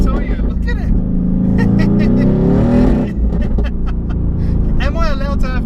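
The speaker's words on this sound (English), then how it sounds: "The exhaust note is so crisp." A 2018 Mercedes-AMG GT R driven hard on Sydney streets, its exhaust rising loudly and steadily as the engine revs build, then settling into a throbbing drone with voices over it.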